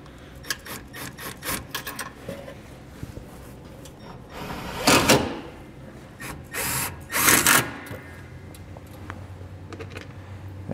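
A driver with a 1/4-inch socket runs screws in while a trailer brake controller kit is installed on a 2011 Toyota RAV4. Two louder whirring bursts stand out among clicks and handling noise.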